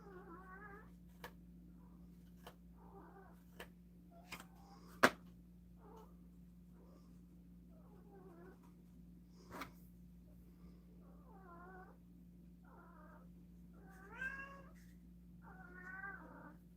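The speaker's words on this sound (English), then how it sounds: "That cat is a fucking crybaby, man." A cat in a bladesmithing workshop cries out again and again, a long series of wavering, plaintive meows of varying pitch. A steady electrical hum runs underneath, broken by a few sharp clicks and taps.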